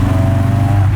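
A Ford Focus rally-style car crackles and burbles on overrun, a loud, rough, continuous engine note close by with no talk over it.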